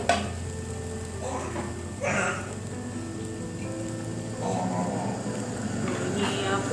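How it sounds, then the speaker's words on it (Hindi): A constant sizzling hiss of chicken mince frying in a pan on a stove, with occasional stirring scrapes and a low stove hum, while a voice speaks briefly. "ये आपको स्टोव की आवाज़ आ भी रही होगी।"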